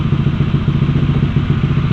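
A Honda CB500X motorcycle engine idles or runs close and loud, a low, pulsing rumble with a steady, even throb throughout.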